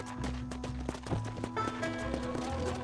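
A horse gallops in the video game Red Dead Redemption, with rapid rhythmic hoofbeats clip-clopping at close range over game ambience and music.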